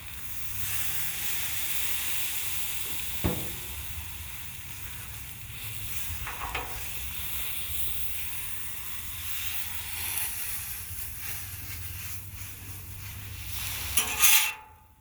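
Food sizzling on a Blackstone 36 Pro griddle, a steady broad hiss running throughout with a few sharp scrape or tap transients near the start, middle and end; no talking.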